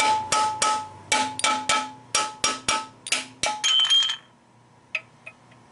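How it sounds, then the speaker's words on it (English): Sharp metallic claw hammer strikes ring out in a steady rhythm, knocking out a metal piece on a 1949 Buick straight-eight, about a dozen blows with bright ringing decay, followed by a few lighter taps. "Now, I can knock that piece out with a claw hammer."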